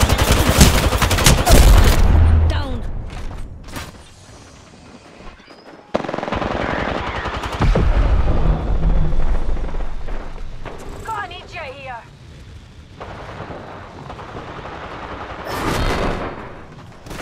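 Heavy gunfire and explosions in the battle royale shooter Apex Legends, loud sustained bursts at the start, then continued shots and effects at varying distances, with a player talking over the action.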